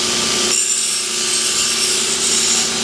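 A belt sander sharpens steel fork tines in a continuous abrasive rasp, with a steady motor hum beneath, close and fairly loud with no talking.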